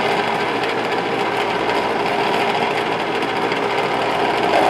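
An ice cream maker churns peach ice cream with a small paddle, giving off a loud, steady mechanical whir and grinding rattle that runs without a break and with no voices.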